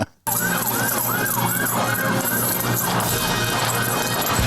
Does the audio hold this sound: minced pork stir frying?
no